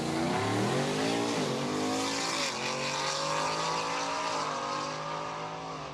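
A 2023 Ford F-150 pickup accelerates down the drag strip at Saskatchewan International Raceway during a heads-up drag racing event, its loud, steady engine roar climbing in pitch through several gear changes and fading slightly toward the end.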